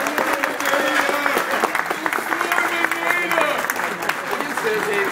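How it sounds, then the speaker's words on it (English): Party audience at a book launch gives sustained applause, a dense wash of many hands clapping close by, while voices talk over it. "So I'll give a big round of applause to Susie Zwerman."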